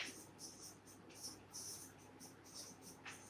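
Pen or pencil scratching across paper as an answer is written by hand, soft repeated strokes in short bursts with faint room noise.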